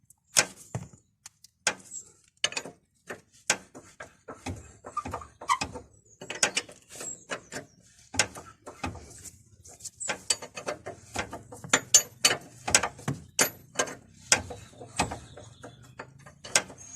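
A ratchet loosens the upper ball joint nut on a Mitsubishi Delice, heard as close, quiet clicking strokes in irregular bursts, with short pauses between runs of clicks.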